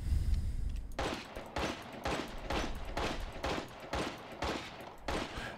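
Pistol gunfire in the video game Resident Evil Village: about eight sharp, evenly spaced shots ring out in a steady rhythm, each one loud and close with a short tail.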